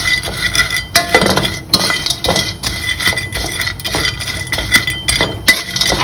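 Crisp rattling and clinking come from a pan as small crispy fried fish are stirred and tossed over medium heat with sugar, in irregular bursts with no voices.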